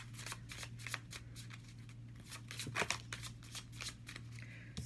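Tarot cards being shuffled by hand, a quick run of crisp riffling flicks and slaps at close range over a steady low hum, with no voices.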